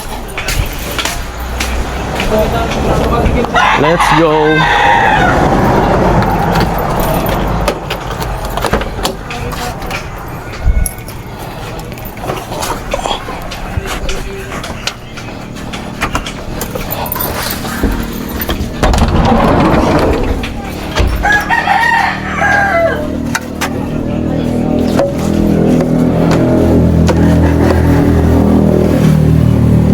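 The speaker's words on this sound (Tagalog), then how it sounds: "Start ko muna yung sasakyan." A car engine starts and revs, rising in loud bursts amid household bustle, while people talk close by.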